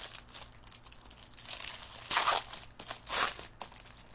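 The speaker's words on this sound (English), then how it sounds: "Excuse the crinkling while I open" Plastic packaging crinkles and tears close up as it is opened, a rustling bed building to two loud crackling bursts, with no talking.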